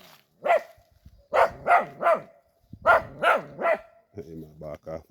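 A dog barks in a hurricane-hit Jamaican yard, with two quick groups of three loud, close barks followed by a run of shorter yelps and whimpering barks at the end.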